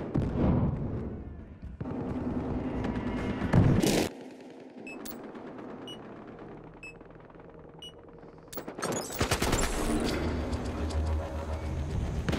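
Gunfire in the video game Battlefield Hardline: rapid bursts of automatic shots, loud and dense, with a calmer stretch of distant pops and chimes before the firing picks up again.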